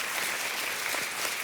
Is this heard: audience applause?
yes